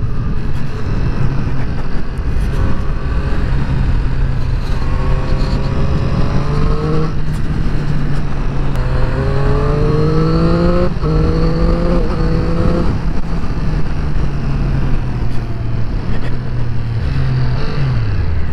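A Triumph Triple RS motorcycle is ridden hard along twisty roads. Its engine drones loud and close throughout, and its pitch climbs and falls with each rev and gear change, with buffeting wind noise underneath.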